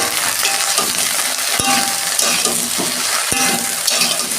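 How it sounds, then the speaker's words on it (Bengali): Okra fried in a pan over a low gas flame with salt and chili powder, stirred steadily: a continuous close sizzle with scraping utensil strokes and two sharp clicks, no talking. "ঢ্যাঁড়সগুলো আমি একটু ভালো করে ভেজে দেবো গ্যাসে ফ্লেম আস্তে করে।"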